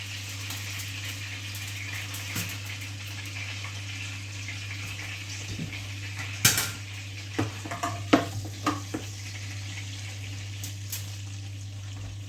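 A roast pheasant is lifted out and set onto a tray in a home kitchen: a short cluster of clunks and scrapes near the middle, over a steady low appliance hum, with no talking.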